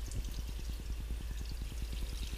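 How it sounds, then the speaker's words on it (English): Water poured from a container into a fake rock water bowl in a tarantula enclosure. It makes a close, steady pour with quick rhythmic glugging pulses and no talking. "You can fill that up, fill it with water."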